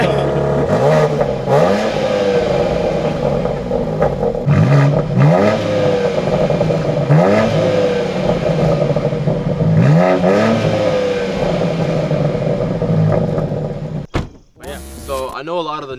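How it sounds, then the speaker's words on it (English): A fast car's engine revs under continuous talk, the loud, steady engine note rising and falling in repeated sweeps, ending with a brief clatter. "Let me rev it real quick."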